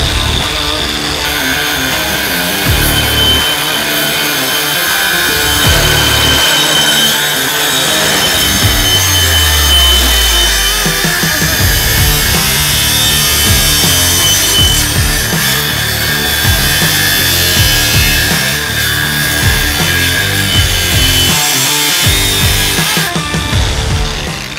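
An abrasive cutting disc on a grinder cuts through a thick metal tube in a workshop, giving a loud, continuous, harsh grinding screech that barely lets up, with a brief drop in motor pitch partway through.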